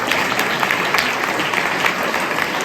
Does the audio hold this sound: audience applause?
yes